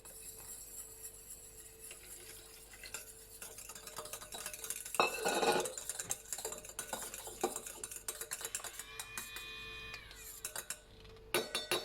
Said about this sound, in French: je vais commencer au fouet à main